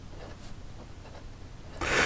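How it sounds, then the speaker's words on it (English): A Visconti Asia Bamboo fountain pen writing initials with the nib reversed gives a faint, dry, scratchy rubbing of short strokes, ending in a louder rasping scrape. "I guess we'll do my initials for reverse writing."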